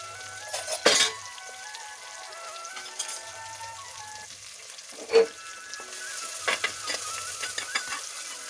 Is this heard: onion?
yes